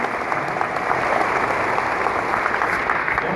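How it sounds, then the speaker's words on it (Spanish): An audience at a church gathering claps for a pastor's birthday, with dense, steady applause that stays loud and even throughout. "Quem pode dar um forte aplauso ao pastor Eli que está fazendo aniversário"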